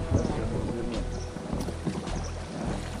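A rowing boat turns on the shallow Nelenga River among rapids, giving soft water lapping and wooden knocks and creaks under faint wind noise, with no clear talk.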